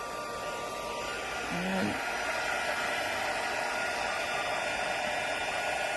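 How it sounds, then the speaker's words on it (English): A heat embossing tool blows a steady, hissing hair-dryer-like rush throughout while melting gray embossing powder, with a brief word spoken early on. "I'm going to turn on my heat tool,"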